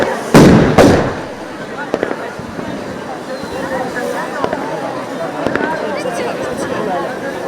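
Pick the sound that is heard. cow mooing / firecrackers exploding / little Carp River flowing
firecrackers exploding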